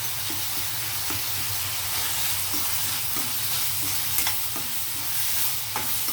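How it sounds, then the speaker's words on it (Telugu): Onion, tomato and ginger-garlic paste frying in oil make a steady close sizzle, broken by regular scraping and stirring strokes of a spoon against the pan, with no talk. "ఈ ఉల్లిపాయ టమాటా వేగేటప్పుడే మనం అల్లం వెల్లుల్లి పేస్ట్ వేసేయచ్చు"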